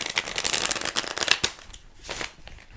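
A deck of tarot cards is riffled and shuffled in quick papery bursts, close by, then settles into softer handling.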